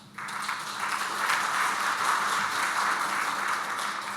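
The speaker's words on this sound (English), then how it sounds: "So you've already clapped for them" Steady, sustained applause from an audience at a Boulder Rotary Club International Peace Day event, honoring local people, with a full crowd clapping evenly throughout.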